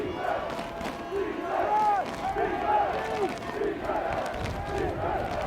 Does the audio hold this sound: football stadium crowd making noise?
yes